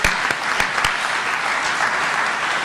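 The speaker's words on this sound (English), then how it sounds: "Can we give everybody one more round of applause, because you're just wonderful." A room full of people claps loudly and steadily, a dense even wash of applause with a few sharper claps standing out near the start.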